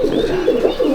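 Pigeons cooing steadily in a pigeon loft in Malda district, a continuous close chorus of low throaty coos with faint higher chirps, no voices.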